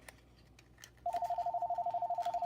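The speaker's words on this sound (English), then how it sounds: "phone was ringing" A household telephone rings in a steady, rapidly pulsing electronic tone that starts abruptly partway through and continues to the end, heard indoors over faint background sounds.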